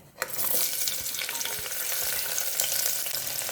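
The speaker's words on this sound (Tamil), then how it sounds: "வெங்காயம் நல்லா பொன்னிறமாக மாறுற அளவுக்கு நல்லா வதக்கிக்கலாம்" Sliced onion hits hot oil with spices and bursts into a loud sizzle, then keeps frying in a steady hiss with occasional stirring knocks. The whole thing is close, with no talking.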